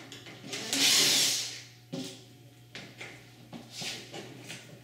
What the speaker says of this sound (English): Turn, and that releases the gear where the handle was.